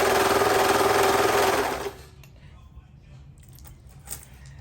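A home sewing machine stitches three layers of fabric together for a small peanut-pattern project, running in a steady fast whir for under two seconds before stopping, followed by quiet handling noises.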